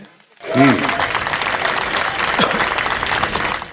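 Audience applause at a comedy show, clapping that swells suddenly after a short silence and continues steadily, with a brief voice rising at the onset.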